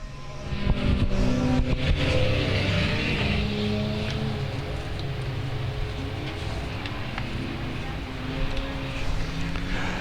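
Race cars launching at the start of a race at South Texas Speedway, a loud pack of engines roaring and revving together, then settling into a sustained drone as the field pulls away.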